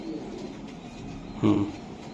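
A Budapest pigeon held in the hand gives one short, fairly loud coo close by, partway through an otherwise quiet stretch.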